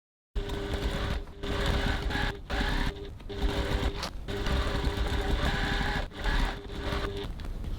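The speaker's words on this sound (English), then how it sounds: "Now we're going to go over to the sewing machine and we're going to stitch another row of stitching right next to the first row of stitching" A sewing machine runs almost continuously, stitching a second row around a crossbody bag, loud and close with a steady motor hum and a few brief pauses.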